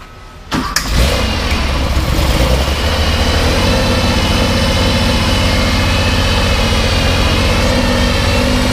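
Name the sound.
car engine running with throttle revved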